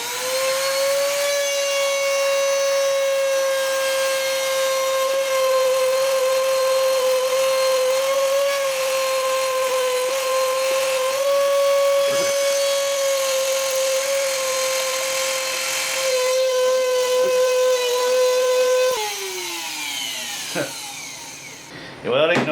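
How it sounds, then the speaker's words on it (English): A buffing wheel spinning against a fan part in a home workshop gives a loud, steady whine with strong harmonics that dips in pitch under load, then winds down near the end. "Buffing wheel there."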